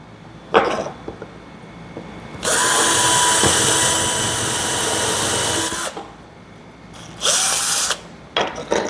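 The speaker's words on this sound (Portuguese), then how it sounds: "fazer um furo aqui" A power drill whirs in loud sustained bursts, one long run and shorter ones, while boring a hole in a homemade wind generator prototype, close up with a brief cough before it starts.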